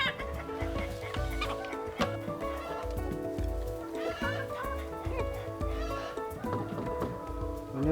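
Chickens on a farm raised on soil-grown feed cluck and call repeatedly at close range, several birds overlapping in busy, uneven bursts.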